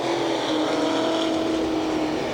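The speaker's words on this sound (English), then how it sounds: "Cars going around now for their warm-up laps." Race cars run warm-up laps at Redwood Empire Raceway (Ukiah Speedway), their engines a continuous, loud droning whine with a steady pitch, no talk over the noise.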